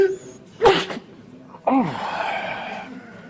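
A single sharp sneeze bursts out near and loud, followed by a brief sniffly exhale and some breathy vocal sound trailing on over faint room ambience.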